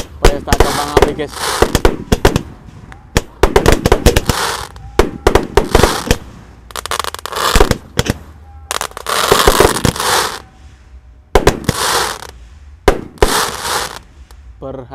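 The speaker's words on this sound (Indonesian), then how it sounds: "Mantap, pesta kembang api guys." Rapid bursts of Roman candle fireworks explode in dense volleys on a festival night, loud crackling bangs and pops clustered together with brief gaps, while voices call out faintly in the background.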